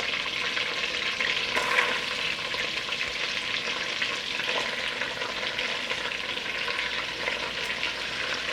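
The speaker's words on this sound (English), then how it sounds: "I'm going to put them right into the pan here, but I don't want to put them too close together." Floured pig wings brown in a hot pan with a steady, dense sizzle and crackle, close and moderately loud throughout, with a few faint clinks and shifts but no voices.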